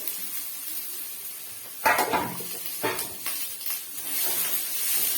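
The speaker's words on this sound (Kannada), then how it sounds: "ಎಣ್ಣೆ ಕಾದಿದೆ ಈರುಳ್ಳಿ ಹಾಕೋತಾ ಇದ್ದೀನಿ" Three medium-cut onions drop into a tablespoon of hot oil, setting off a sudden loud sizzling burst, followed by softer crackles and utensil clatter against the pan.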